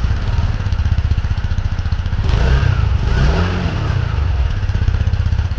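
A 2024 TVS Jupiter 110cc scooter starts quietly and settles into a steady, close, low engine idle with an even throb, briefly swelling a little midway before holding its smooth hum.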